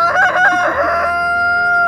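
A rooster crows and clucks while being held, a loud, close burst of harmonic calls for about a second that gives way to a steady tonal hum.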